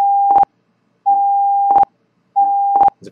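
Theta-Meter meter sound on a Windows program: three steady electronic tone pulses at even intervals, each ending in a quick crackly click burst, loud and alone.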